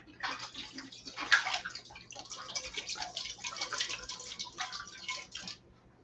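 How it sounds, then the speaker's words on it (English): Water pours into a cooking container in a steady, close splashing stream that trickles and patters for several seconds before tapering off, with no voices. "First thing, we're gonna put some water in here."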